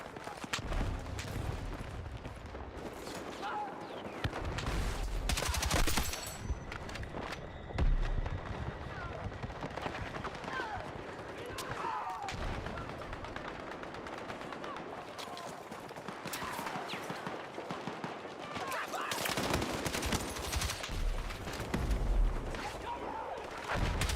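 TR7 rifle fire in Battlefield 6 crackles in repeated bursts with heavy thumps and blasts on a sandy battlefield, mixed with a person talking over much of the action.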